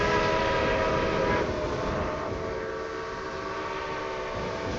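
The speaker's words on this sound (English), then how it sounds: "as soon as that train shows back up from Hoover Dam, here we go" A freight train in the Railway Empire 2 video game rolls in near the Hoover Dam with a steady rumbling drone and a sustained horn tone, loud and continuous without any talk.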